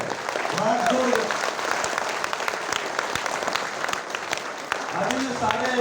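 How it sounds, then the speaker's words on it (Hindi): A large gathering claps loudly on request, sustained crowd applause with sharp individual claps, while a voice on a microphone speaks over parts of it. "एक बार दिल खोल के जोरदार तालियां"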